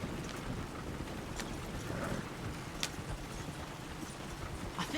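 Horse hooves clip-clopping on a road in the video game Red Dead Redemption 2, a steady faint trot of soft hoof beats under a constant windy, rumbling outdoor ambience, with no talking.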